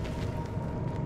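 Incendio fire spell cast in Hogwarts Legacy: a dense, rumbling whoosh of flame, loud and sustained for about a second, with no voice over it.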